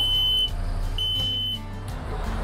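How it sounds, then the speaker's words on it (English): A smoke-alarm-style sensor alarm inside an M1079 camper truck emits piercing high beeps, two sustained tones cutting out and returning over a low engine rumble. "see how piercing that is"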